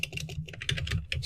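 Quick bursts of keystrokes on a computer keyboard as a short terminal command is entered, close and fairly quiet clicks in an uneven rhythm.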